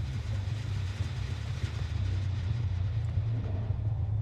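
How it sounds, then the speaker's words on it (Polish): A generator engine in the Dead by Daylight video game runs with a steady low rumbling hum and mechanical drone, continuous and fairly close, with no talk over it. "Tutaj w środku ten silnik."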